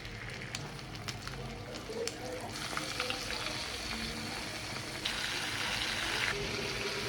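Flour-coated fish fries in hot oil, a dense, continuous crackling sizzle that swells slightly louder partway through, with a few faint knocks.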